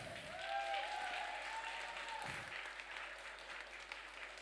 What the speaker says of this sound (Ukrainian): Оплески військовим. Давайте дуже голосно.